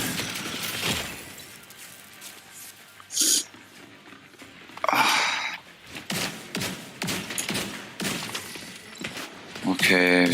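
A dog in a shooter video game snarls and barks in short bursts amid gunfire, impacts and other busy game effects, loud and close.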